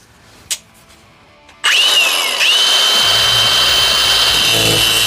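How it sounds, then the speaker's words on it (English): An angle grinder bites into metal on a Subaru Forester during rear-end swap work, starting after a few faint knocks with a loud, sustained high whine that dips briefly as the cut loads, then holds steady, close and alone. "There we go, first grinder cut."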